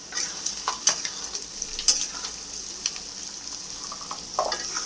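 Pasta being stirred in a pan with sauce, with soft sizzling and frying noise under repeated scraping strokes of the spoon against the pan, close and steady with no talking.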